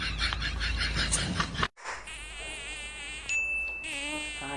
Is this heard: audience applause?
no